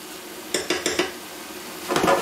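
Food being stirred in a pan, a few quick scraping clinks of a utensil against the pan over a soft sizzle, then a pause and another short burst of stirring.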